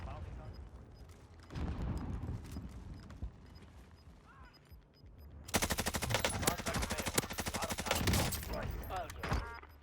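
Gunfire in the video game Warzone: scattered shots give way to a loud sustained rapid machine-gun burst over a few seconds, with game voice lines heard alongside.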